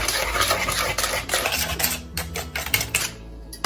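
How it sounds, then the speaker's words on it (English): A whisk beats ingredients together in a bowl, its quick rattling clinks rapid and close against the bowl's sides, with no voices. "Mix it really well"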